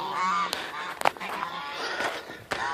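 Neighbor's geese honk outdoors near a farm tractor, with several sharp calls scattered through a steady background and one loud honk standing out near the middle.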